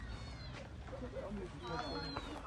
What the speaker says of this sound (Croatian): Neka divlja evropska maca.